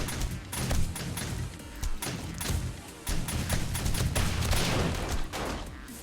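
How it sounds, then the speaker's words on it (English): Automatic turrets in 7 Days to Die fire in dense, rapid bursts of popping shots that run steadily throughout, with crashing impacts mixed in, distant and muffled rather than up close. "I hear those turrets popping off."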